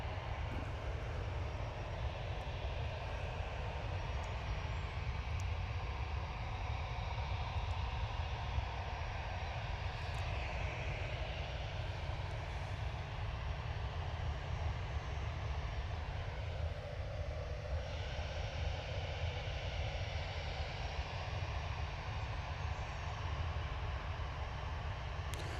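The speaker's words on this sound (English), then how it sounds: "Jet2 A321 normal edition." A Jet2 Airbus A321 airliner at Manchester Airport roars steadily with jet engine noise. The loud, broad rumble holds for the whole stretch with no break.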